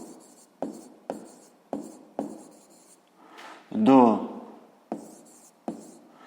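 Pen strokes on a notebook page while working a sixth-grade maths exercise, a series of short, regular scratching taps with a longer scribble in the middle, close and fairly quiet.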